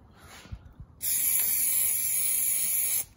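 Aerosol spray paint hisses out in one steady, close burst of about two seconds as a first coat goes onto a plastic front lip for an Infiniti G37s, after a few faint handling clicks.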